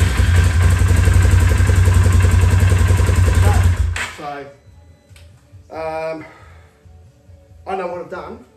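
Polaris ATV 570 engine running with a steady, loud, clattering idle just after a starter motor replacement, then shutting off abruptly, followed by someone talking in the quiet.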